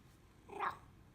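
A cat lets out a single short, soft meow, quiet and brief against a faint background hum.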